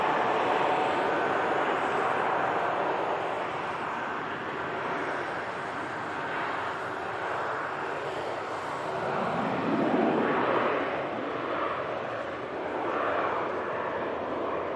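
A KLM aircraft departing Manchester Airport for Schiphol in thick fog, heard as a steady distant jet roar that swells slightly midway, with no voices over it.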